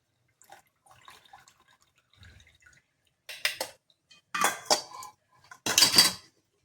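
Herbal water boiled down from two glasses to one is strained in a home kitchen, with several sharp metal clinks and clatters of utensils and a pot, growing louder toward the end, over faint dripping and no speech.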